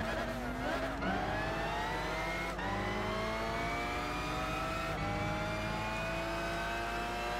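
A Nissan Skyline R34 engine in the video game Gran Turismo 6 revs hard and continuously, its pitch rising in sweeps and falling back sharply at three gear shifts, with revs dropping a lot in fourth gear, loud throughout.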